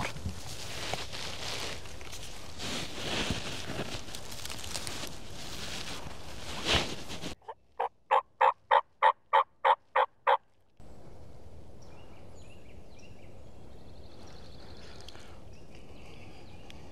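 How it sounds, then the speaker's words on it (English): A wild turkey gobbles in the woods during spring turkey hunting, a single rapid burst of about ten rattling notes heard clearly after a stretch of quiet rustling, with faint forest ambience following. "The bird just gobbled."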